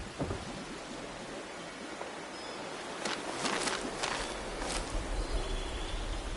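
Steady rain hisses across an outdoor scene in the video game Fallout 76, with a low rumble of thunder rolling underneath and a few sharper crackles midway, no talking.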